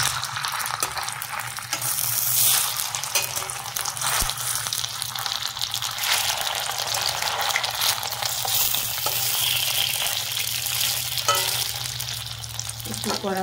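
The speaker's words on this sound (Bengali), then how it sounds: "একটু কড়া করব, হালকা তাপে ভাজবো" Poha suji snacks crackle gently in oil over low heat in a kadai, a continuous close sizzle with intermittent stirring scrapes and taps.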